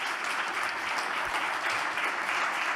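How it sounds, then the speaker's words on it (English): Sustained applause from a conference audience at an international astronautical congress session, a dense steady wash of clapping that holds evenly throughout without any voices. "let me just ask for a round of applause for our panelists"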